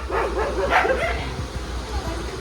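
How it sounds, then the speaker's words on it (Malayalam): A dog near a village railway station lets out a few sharp barks and yips close by, over a low steady engine rumble. "അവിടെ ഒരു പട്ടി വരച്ചുകൊണ്ടിരിക്കുന്നുണ്ട്. അതാ ഈ ഒച്ച ഇങ്ങനെ വരുന്നത്."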